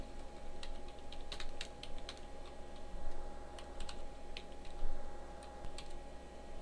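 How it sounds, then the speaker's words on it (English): Computer keyboard typing in short uneven bursts of quick, light key clicks, fairly close and quiet over a steady low hum, with no talking. "And now I can type the path and the file name."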